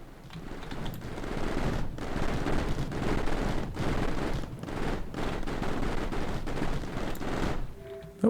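Continuous dense gunfire in the game Mindustry as the player is shot at, rapid overlapping bursts forming a loud rattling barrage that runs almost unbroken for about eight seconds.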